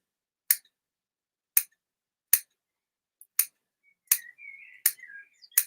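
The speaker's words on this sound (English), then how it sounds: "Take my sharp scissors, and again, I'm just going to cut along." Sharp scissors cutting through felt in a series of crisp separate snips, roughly one per second, close and clear with near silence in between.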